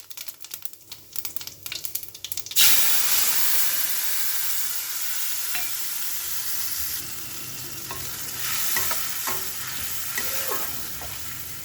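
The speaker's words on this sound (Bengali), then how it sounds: "তেজপাতা আর সামান্য জিরে, গোটা জিরে দিয়ে তারপরে এই মশলাগুলো দিয়ে দেবো।" Whole dry red chillies, bay leaf, cumin seeds and spices hit hot oil in a pan with a sudden loud sizzle after a few quiet clinks, then frying steadily with crackles and stirring scrapes throughout.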